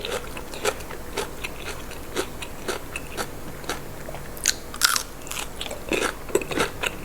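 Crunchy grilled pork is bitten and chewed up close, sharp crackling bites repeating irregularly with louder crunches near the end, loud and alone without talk.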